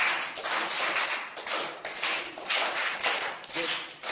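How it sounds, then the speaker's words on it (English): An audience gives a big round of applause after a student speaks at an event, dense steady clapping filling the room, continuous and fairly loud with brief dips. "Please give a big round of applause."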